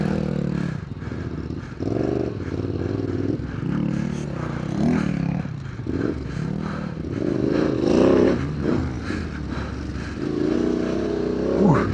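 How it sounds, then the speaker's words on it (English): Kove 450 Rally and Yamaha Tenere 700 motorcycles ridden off-road, engines droning and revving loudly and continuously with shifting pitch, plus clatter and scraping from rough terrain. "Sometimes the Tenere is easier to ride because you can feel the weight of the bike."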